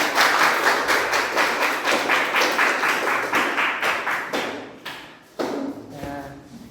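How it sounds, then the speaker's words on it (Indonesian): Classroom applause for a student group after their presentation: many hands clapping in a dense, steady patter for several seconds, then thinning out and trailing off into a few scattered claps near the end. "Tepuk tangan untuk kelompok 4."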